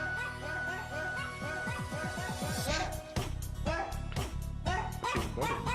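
A tune played with dog bark samples, a bouncy run of pitched woofs and yips, with voices briefly heard over it.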